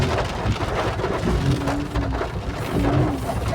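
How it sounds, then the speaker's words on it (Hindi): Heavy rain drums steadily on a car's roof and windows, with low rumbles of thunder rolling underneath, heard from inside the vehicle as a continuous dense wash of sound. "बरसात हो रहा है अच्छा खासा"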